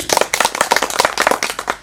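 A group of people clap loudly and briskly, sharp close hand claps in an uneven, rapid rhythm for a couple of seconds with no talking.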